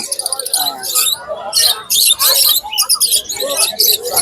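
At the Tongi bird market, where kites, egrets and baby sun conures are sold, close birds give loud bursts of shrill chirps and squeaks, with people talking among them.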